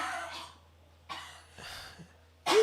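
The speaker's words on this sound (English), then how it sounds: "She just comes in and coughs all over the stream." A woman coughs off to the side during a livestream of Formula 1 qualifying, a few short harsh bursts spread over a couple of seconds and ending in a louder cough, faint at first, then closer.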